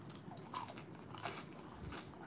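Close crunching bites into fried crab rangoons filled with cream cheese, with a few crisp cracks and chewing over quiet room noise and no speech.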